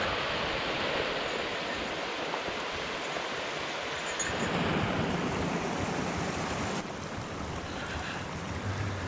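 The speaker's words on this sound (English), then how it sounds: "this is the cold creek flowing in and mixing" Cold creek water flowing into a hot spring area in the Yellowstone wilderness, a steady close rush of running water that fills the scene and swells slightly midway, with no voices.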